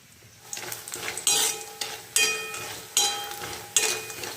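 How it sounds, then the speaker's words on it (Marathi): Mung dal vadas frying in hot oil, with a steady sizzle broken by several sharp clinks of a utensil stirring in the pan, close and fairly loud. "यामध्ये तेल टाकले आहे आणि हे थोड़े से म्हणजे किंचित गुलाबी होईपर्यंत भाजून घेणार आहे"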